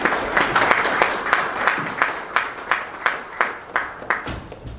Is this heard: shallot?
no